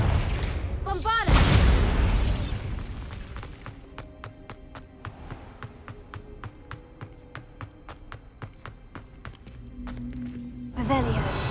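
Bombarda blasting spell cast in Hogwarts Legacy, a loud booming burst early on, followed by a long train of sharp rhythmic crackling impacts and a second surge at the end, with game effects around it.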